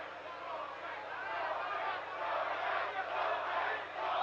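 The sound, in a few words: boxing crowd cheering for Gómez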